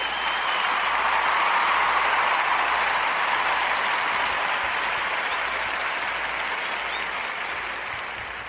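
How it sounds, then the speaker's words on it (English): A crowd gives a sustained round of applause for scholarship students at an economic development event. The clapping is dense and even throughout and tapers slightly toward the end. "Let's give them a round of applause for work well done."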